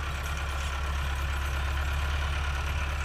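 A Massey Ferguson MF 385 tractor engine idles close by, a steady, even rumble with a constant low throb throughout and no change in pace.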